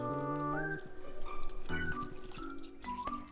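Washed, blood-tinged shredded pork is squeezed by hand, sending water dripping and trickling into a bowl or sink in a soft, close, uneven patter with a few brighter splashy drops.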